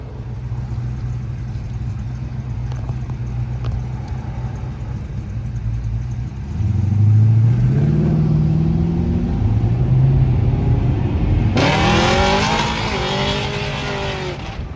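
A car on a nitrous run revs hard, its engine note rising and surging loudly before a sharp, harsh burst near the end, close by with no talk.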